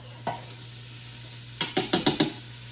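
Diced yellow onions are stirred in oil inside an Instant Pot, giving one early scrape and then a rapid series of five or six clattering stirs over a quiet, steady sizzle.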